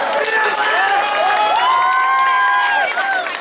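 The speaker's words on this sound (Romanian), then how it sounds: "Vă rog din suflet să-i aplaudați pentru că merită." An audience at a school awards ceremony applauds and cheers for honoured pupils, with crowd noise, scattered shouts and high, sustained children's voices over the clapping.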